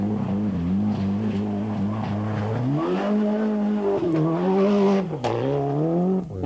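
A rally car from the 1996 Safari Rally drives hard through a mud puddle, its engine droning loudly and rising in pitch as it revs, with splashing noise throughout.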